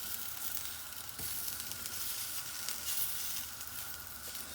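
White asparagus spears browning in a frying pan, a steady close sizzle of frying running throughout with a faint clink partway through.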